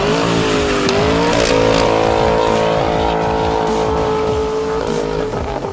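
A 1968 Camaro SS V8 fitted with a Flowmaster 50 Delta Flow custom dual exhaust revs loud and close, a steady deep rumble that swells with a couple of throttle blips.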